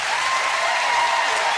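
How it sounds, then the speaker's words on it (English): Studio audience applauding on the TV game show All Star Family Fortunes, a dense, steady burst of clapping that carries evenly throughout at full volume with no pauses. "Give them a big round of applause."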